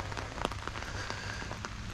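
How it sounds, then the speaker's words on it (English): Light rain sprinkles down outdoors during a walk, a faint steady patter with scattered soft drop taps, no voices. "got a good little sprinkle today"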